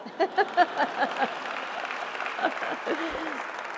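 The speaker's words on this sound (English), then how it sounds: "Oh, I got to clap for that one." Applause at a White House event on a night at the Met, a few distinct claps at first, then a softer ongoing patter of clapping from the audience with some voices mixed in.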